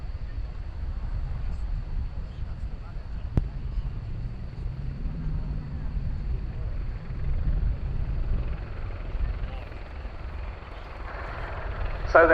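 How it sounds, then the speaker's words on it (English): A Portuguese Air Force Leonardo AW101 Merlin Mk 514 from Esquadra 751 passes low at an air show, its heavy rotor and engine rumble loud and continuous, swelling slightly as it goes by. "the final pass from the Leonardo AW101 Merlin, Mark 514 of the Portuguese Air Force's Esquadra 751"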